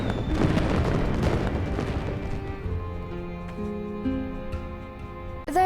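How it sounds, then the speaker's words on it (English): Fireworks bursting in the farming-life game My Time at Sandrock, a dense barrage of loud overlapping booms and crackles that thins into sparser pops over a sustained musical background. "When I was young, we'd watch the fireworks."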